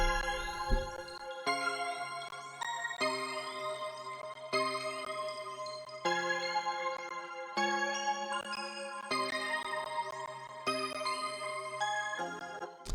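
A mellow lo-fi beat of repeating synth chords, each about a second and a half long, with swirling, pitch-bending delay echoes that smear between changes.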